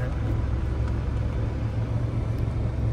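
Pickup truck engine rumbling in a low, steady drone, close and continuous for a few seconds with faint background noise.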